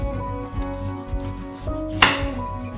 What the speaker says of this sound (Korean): 무를 3cm나 4cm 길이로 토막을 내요.